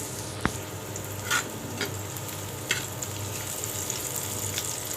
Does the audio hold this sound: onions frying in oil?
yes